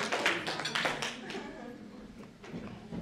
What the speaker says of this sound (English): let's give God a good hand clap